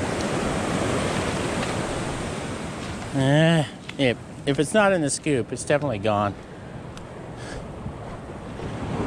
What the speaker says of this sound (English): Those waves are strong there.